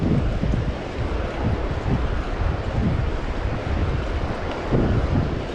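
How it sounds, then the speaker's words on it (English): Strong wind roars steadily across the beach dunes on Mustang Island near Port Aransas, Texas, buffeting the microphone with constant loud, rumbling gusts and no voices. "It's a lot harder going into the wind"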